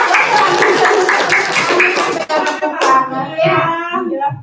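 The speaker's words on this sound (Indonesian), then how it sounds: "Tepuk tangan." Close, loud clapping from a small group, probably including children, running for a couple of seconds before fading into overlapping voices and talk.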